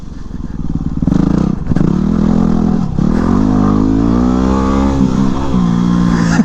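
Dual sport motorcycle being ridden, its engine revving up and holding a steady loud drone close by, with pitch shifting as it accelerates through gears.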